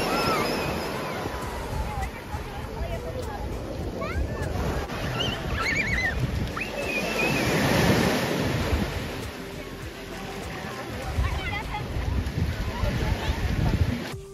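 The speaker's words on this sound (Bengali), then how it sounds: "এই সি বিচের নাম হলো ক্রিস্টাল ক্রিসেন্ট বিচ" Surf washing ashore at Crystal Crescent Beach, a crowded white-sand beach in Nova Scotia, as a steady rolling wash mixed with gusting wind noise and faint voices in the background.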